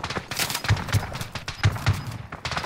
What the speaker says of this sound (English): Oh shit, you're being shot from through the wall there, Switch.